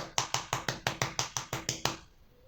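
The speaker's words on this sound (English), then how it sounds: "I'd clap my hands," Hands clapping at a steady rhythm, about eleven sharp, close claps in quick succession before stopping, heard alone without speech.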